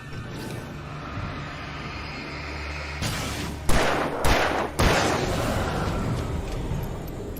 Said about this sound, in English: Six shots to kill that guy.